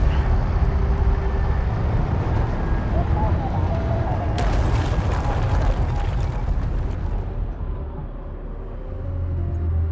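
Explosive charges detonate in Homeworld: Deserts of Kharak, a deep sustained rumbling blast swelling midway with a bright crackling burst, then settling into a low roar that fades toward the end, with no talk.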